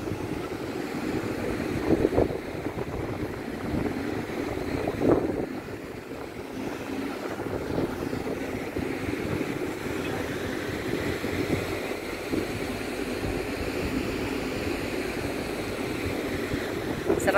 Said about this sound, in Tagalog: Sarap na simoy ng dagat, everyone, dito sa may Port Calapan.